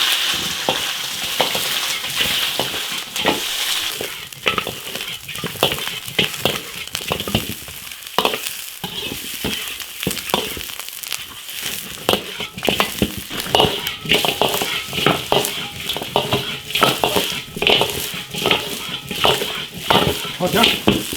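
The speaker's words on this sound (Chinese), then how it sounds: "下入羊腿焯一下。" A lamb leg blanched and stirred in an iron pot, with continuous bubbling and sizzling broken by repeated scraping, clattering stir strokes up close for about twenty seconds.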